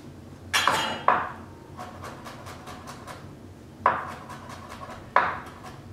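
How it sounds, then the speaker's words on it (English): Garlic is chopped on a cutting board during an outdoor spring farmers market cooking demo, giving a few sharp knocks and clinks amid faint, rapid tapping. Steady background noise runs underneath, and no one speaks. "I am just peeling and chopping this garlic."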